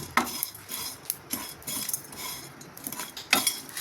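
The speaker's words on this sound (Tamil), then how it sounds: "காஞ்ச மிளகாய், மஞ்சள் இதெல்லாம் பெருங்காயத்தை ஒரு செட்டு எண்ணெய் விட்டு வறுக்கிறோம்ப்பா." Dried chilies, turmeric, asafoetida and other spices roasting in oil in a pan, heard as close scraping and clattering of a stirring utensil over a soft sizzle, with no talk.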